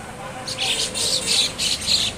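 Several birds, including a pet myna, chirp in quick repeated bursts, fairly close and clear, over a low steady background hum.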